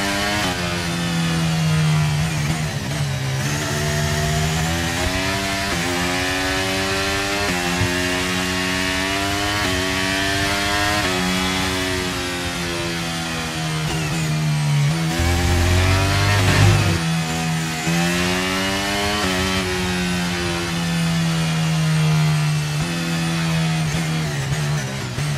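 An F1 car engine in the F1 23 racing game at the Qatar Grand Prix holds a high, steady revving whine for the whole stretch, with harmonic pitch rising and dipping through gear changes and a brief low thump midway.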